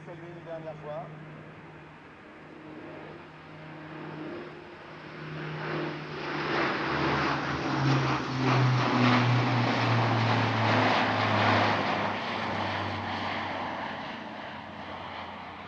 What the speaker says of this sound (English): Final pass now from the A400M.